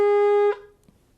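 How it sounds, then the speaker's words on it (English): A shofar sounds one steady, loud blast that cuts off after about half a second, far too short for a proper tekiah, followed by a faint trailing breath. "So if you just blew a short tkiyah"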